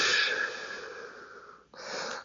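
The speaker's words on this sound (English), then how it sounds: "breathing in, breathing out" Deep breathing during a child's pose stretch in a home workout: a long, audible breath out that slowly fades, then a sharp breath in, close and alone with no speech.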